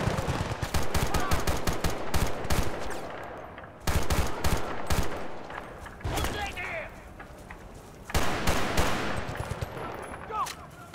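Rapid bursts of automatic and single gunfire in the video game Battlefield: Bad Company 2, loud and close, in clustered volleys with short pauses, with voices over parts of it.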